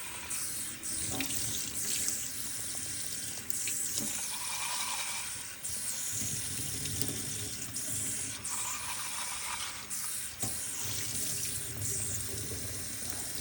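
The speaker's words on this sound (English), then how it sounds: "So I'll dump it all. You can see all that dirty water." Dirty coin-cleaning water poured down a sink, a steady rushing splash running throughout with small clanks and clicks mixed in, close and continuous.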